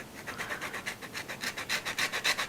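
Orange zest is grated into a bowl in a fast, even run of short rasping strokes, each a soft scratchy rub close to the listener, with no talk over it.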